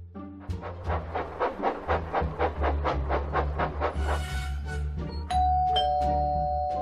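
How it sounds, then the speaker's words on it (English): A doorbell: a sequence of bright chiming tones rings out in a steady rhythm, then gives way to a sustained electronic tone over a low rumble. "Was that the doorbell?"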